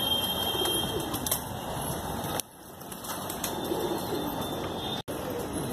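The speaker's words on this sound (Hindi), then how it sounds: "असली उड़ने वाले कबूतर" Desi high flyer pigeons coo steadily at a breeder's loft in Dombivali, Mumbai, a soft continuous murmur of birds with occasional wing flutters, fairly loud and close, with a brief dip partway through.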